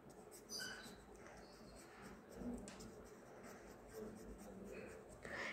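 Pen or pencil writing on paper while labeling a hand-drawn animal cell diagram, soft faint scratchy strokes in short bursts across the clip, with quiet background and no clear talk.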